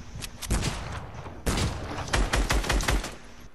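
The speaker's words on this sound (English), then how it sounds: "I'm getting shot from behind." Bursts of rapid gunfire in a multiplayer shooter match, with short clusters of shots, a brief pause, then a denser volley of close, loud shots.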